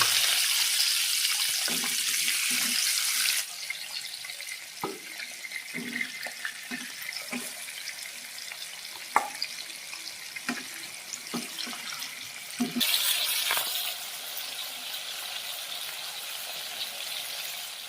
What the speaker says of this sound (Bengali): পমফ্লেট মাছটা কড়াইয়ের মধ্যে দিয়ে দিলাম ভাজার জন্য।